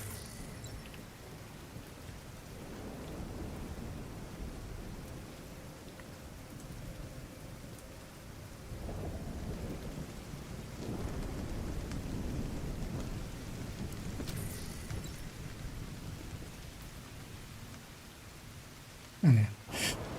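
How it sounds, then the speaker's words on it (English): Rain sweeps in across a game's outdoor battlefield, a steady soft hiss of falling water with swelling gusts and low rumbles, staying faint and continuous before a brief sharp noise near the end. "The rain came in."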